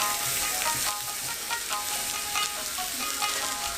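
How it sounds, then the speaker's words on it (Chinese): Chicken sears on a hot iron griddle in Izumi, Kagoshima, giving a steady, close crackling sizzle that holds unbroken throughout with no voices. "鸡肉伫铁盘顶面煎甲比较球"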